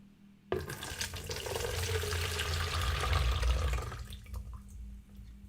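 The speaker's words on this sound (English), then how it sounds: "I'm just going to drain them out." Brine pouring off snap peas soaked for kimchi, drained at a kitchen sink: a steady, fairly loud rush of running water that starts abruptly and tapers off near the end.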